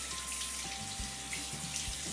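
Tap water runs steadily into a sink while a pet rat is rinsed during a bath, a continuous close hiss with no talk.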